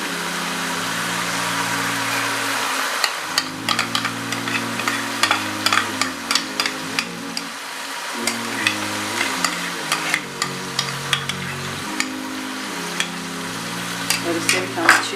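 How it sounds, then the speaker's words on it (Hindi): Mutton liver masala with tomato and yogurt being stirred and fried in a pan: a steady sizzle with repeated scraping strokes of a spoon against the pan, close, with no talking. "और इसे भी हम अच्छी तरह भूनेंगे।"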